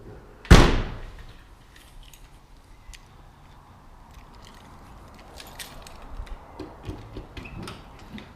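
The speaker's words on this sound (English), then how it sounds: "Can open the trunk real quick" A 1965 Ford Mustang trunk lid is released with one sharp, loud latch clunk near the start. Faint rustling and small knocks follow in a quiet setting.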